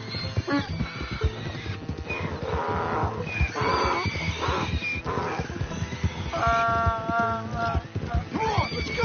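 Donkey braying and hoof clops in the Western game Red Dead Redemption, set over a busy, layered game soundscape of music and background noise, with a drawn-out harmonic bray near the end.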